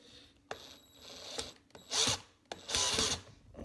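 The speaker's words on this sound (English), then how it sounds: "got the power drill now. Maybe we get these screws in a little better" A power drill whirring in several short bursts, driving screws, with clicks and pauses between each burst.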